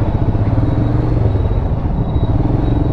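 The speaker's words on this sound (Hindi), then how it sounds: "बहुत ही धीरे धीरे धीरे बाइक चल रही है" A motorcycle crawls slowly through a traffic jam, its engine giving a loud, close, steady rumble with a faint clatter and no gaps throughout.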